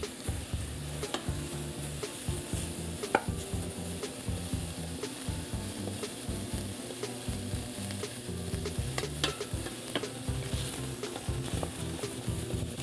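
Beef for stew browns in a very hot pot, giving a continuous crackling sizzle. Scraping and stirring noises run through it at a fairly low, steady level.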